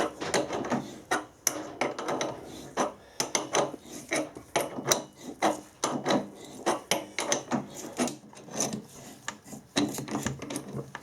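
Screw thread being cut on a metal lathe, a rhythmic series of rasping, scraping strokes repeating roughly every half second, close and fairly loud with no talking.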